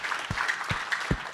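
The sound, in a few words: audience applause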